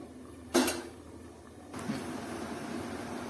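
A lid set onto a cooking pot of pointed gourd curry, one clear metallic clack followed by a softer bump and a quiet ongoing simmer.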